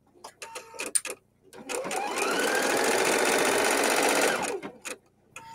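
A Husqvarna Viking embroidery machine stitching a cutwork design runs in a loud, steady buzz for about three seconds, set between scattered clicks and short handling noises.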